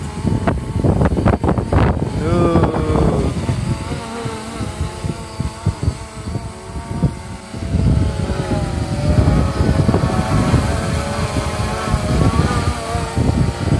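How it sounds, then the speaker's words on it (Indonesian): Strong gusty wind buffeting the microphone, roaring in bursts with the mechanical whine of a DJI Phantom drone rising and falling beneath it. "Anginnya sedang keras-kerasnya"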